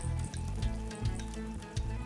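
Chopped shallots sizzle in hot oil with popped mustard seeds in a pan, a soft steady crackle with a few brief stirring clatters, quiet and close.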